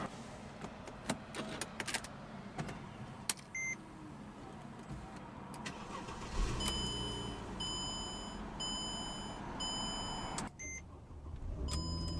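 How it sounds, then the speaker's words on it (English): A 2008 Mercedes-Benz CLK 350 Cabriolet engine cranks and catches, settling into a steady idle while a series of electronic chimes beep in a regular pattern. "let's go ahead and start the engine"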